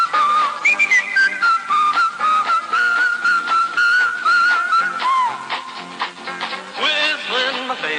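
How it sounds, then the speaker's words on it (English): Melodic whistling of a cheerful tune in a Camel cigarette radio commercial, a clear, close, lilting whistle carrying a bouncy melody over light background music. "Whistling my favorite song, gotta get moving right along."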